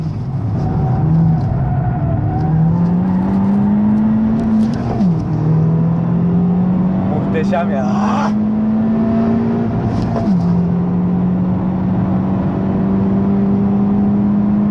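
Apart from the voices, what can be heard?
Honda Civic Type-R FK2 engine accelerating on test drive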